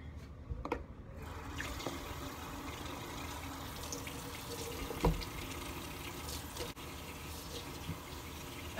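Water runs steadily from a tap or shower to wet hair before a haircut, a continuous close rush with a few brief knocks and shifts as the head moves under the stream.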